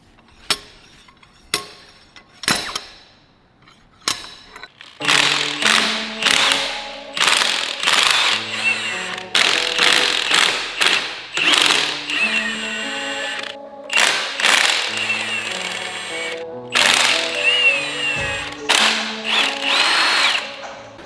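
A slide hammer threaded onto a welded nut yanks a CV stub from a totaled Mitsubishi Evo Final Edition. A few isolated metallic knocks come first, then a fast run of loud, ringing clanks.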